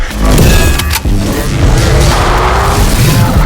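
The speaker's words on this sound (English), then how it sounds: "That's the sound of lightning." A lightning sound effect, a loud, close, roaring crackle and rumble with a deep boom that cuts briefly near the one-second mark and then continues at full strength, with no talk.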